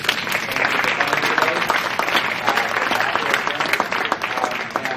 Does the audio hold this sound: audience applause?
yes